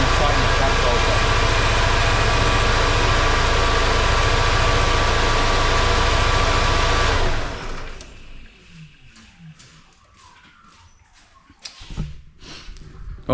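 A supercharged MGB engine idles with a loud, steady, close-up drone for about seven seconds, then cuts off, leaving faint clanks and handling noises.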